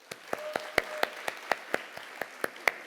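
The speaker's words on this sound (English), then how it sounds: "can we also give a round of applause to our BSL interpreter, Grace?" Sparse applause from a conference audience at an early-morning student literature event, with about a dozen distinct, evenly spaced claps over a few seconds, fairly close and clear, with no talk.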